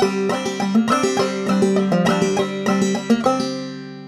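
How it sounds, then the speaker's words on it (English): A clawhammer banjo plays a quick, rhythmic passage with hammer-ons slurring into fretted notes, sounding without fresh picks, solo and close, finishing on a ringing chord. "add hammer-ons when we go into our fretted notes"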